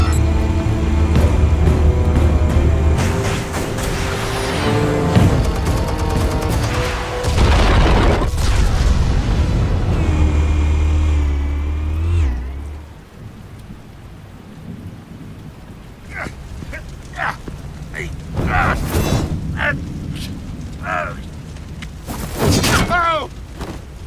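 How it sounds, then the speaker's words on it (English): Explosives detonating in Batman: The Telltale Series, a long, loud rumbling blast with a rolling low boom and layered score that fades into crackling debris and sharp impacts. "Explosives armed. Fire when ready."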